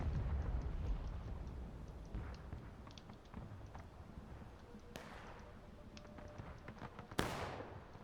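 Artillery fire in the Civil War video game War of Rights, with distant cannon booms and sharp cracks over a dense rumble of battle, one louder blast near the end, faint and far off.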